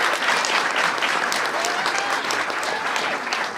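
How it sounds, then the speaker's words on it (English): A room full of people applauds steadily for an honoree at an official event, the dense clapping loud and continuous from start to end. "Give Deborah a big round of applause"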